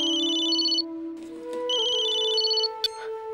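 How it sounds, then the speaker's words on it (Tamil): A mobile phone ringtone plays an electronic melody in repeated bursts over a steady tonal drone, loud and close, with a short click near the end and no talking. "எல்லார் கையிலும் செல்போன் இருந்தா யாரோட மொபைல் அடிக்குதுன்னே தெரிய மாட்டேங்குதுல."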